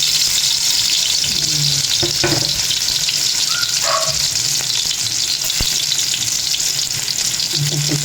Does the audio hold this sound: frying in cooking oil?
yes